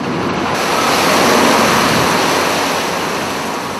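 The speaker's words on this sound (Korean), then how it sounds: "항구를 떠난 지 얼마 안 돼 바람과 파도가 배를 향해 매섭게 몰아칩니다." Strong wind and rough sea waves pound a fishing boat heading out from port, a loud, continuous broadband roar of surf and gusts with no voices.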